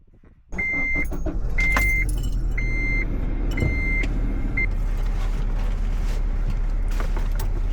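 A car engine starts abruptly and settles into a loud, steady running drone, with a series of electronic warning chimes beeping repeatedly over it as the car sets off.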